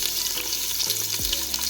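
Lamb neck slices browning in a hot pan make a loud, dense sizzle with a constant spitting hiss and a few low knocks from the pan, and no one talks.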